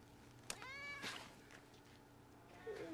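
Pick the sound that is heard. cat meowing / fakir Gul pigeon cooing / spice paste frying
cat meowing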